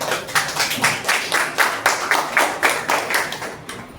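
An audience claps hands together in a steady, fairly quick rhythm of sharp repeated claps at a health and wellness event, loud and close, with no talk.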